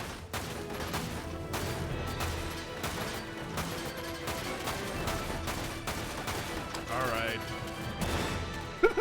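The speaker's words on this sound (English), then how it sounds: "I got tired of my machine gun missing." Rapid gunfire in the video game Dirge of Cerberus, dense bursts of shots and impacts over game music, with a voice talking across it.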